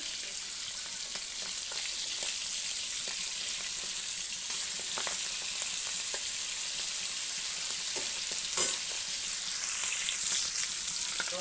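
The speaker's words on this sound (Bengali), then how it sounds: "দেখুন মাছগুলো ভাজা হয়ে গেছে এবার আমি তুলে নেব" Fish frying in a pan of oil, a steady close sizzle with scattered small pops and crackles running throughout at an even level, with no one speaking.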